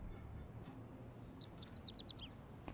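A small bird in Life is Strange Remastered lets out a quick burst of high chirps, faint and set against a quiet room hum, with a soft knock at the end.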